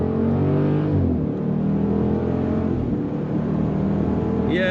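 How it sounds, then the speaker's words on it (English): A 2018 Jeep Grand Cherokee SRT 4WD accelerating hard under throttle, the engine note loud and rising steadily, heard from inside the cabin with an automatic gearbox shifting near the end. "Let's hit the throttle here for a sec."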